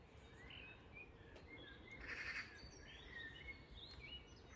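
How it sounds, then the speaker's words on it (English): Garden birds sing and chirp softly in the distance, several overlapping calls over a quiet outdoor hush with no talking. "just listen to the birds"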